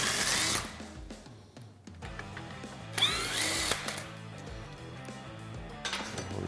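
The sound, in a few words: power tool removing castle nut on Honda Pioneer A-arm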